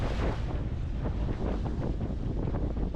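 Offshore wind of about 6 to 7 knots buffets the microphone aboard a 5.0 m custom aluminium centre-console boat on open water with whitecaps: loud, continuous low rumbling gusts with steady roaring wash and no voices.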